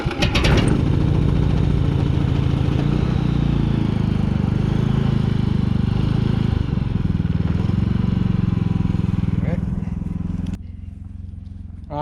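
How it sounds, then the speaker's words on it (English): Small generator engine starting up on a farm while a combine is being cleaned, a sharp pull-start then a loud, steady running drone that cuts off near the end. "I'm gonna fire my little generator up."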